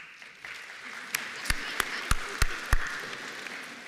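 An audience at a college spring convocation applauds in a sustained, moderate wash of clapping, with several sharper, louder claps close by standing out over it, and some talk mixed in.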